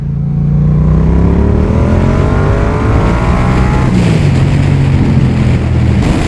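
A 2019 Yamaha MT-07 motorcycle accelerating hard, its engine note climbing steadily through the gears, loud and close with a continuous roar and rising pitch.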